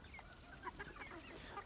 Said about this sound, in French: et le coq qui doit être là-bas.